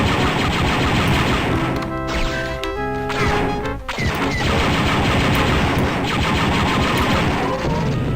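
Rapid blaster fire and explosions from the game Star Wars: Dark Forces, a loud, dense barrage of shots and crashing blasts with a brief lull in the middle before the firing resumes.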